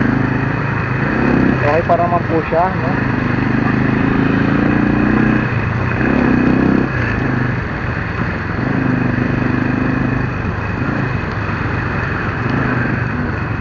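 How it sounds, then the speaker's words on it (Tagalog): An old Rafale MD100 motorcycle engine idles steadily and close by, a continuous low rumble while someone talks over it. "ang gamit po natin ay ito pong Rafale MD100. Ito pong luma kong motor."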